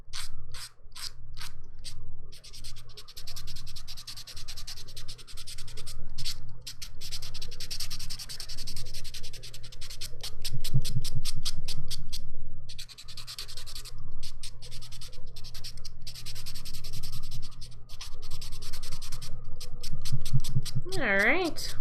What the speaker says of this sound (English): So we're just getting everything buffed up. I'm just using a buffer block.